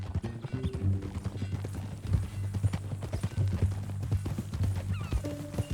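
Horse hooves clip-clop steadily in Red Dead Redemption 2, a continuous walking rhythm up close under a low game music drone, with a brief whinny-like note near the end.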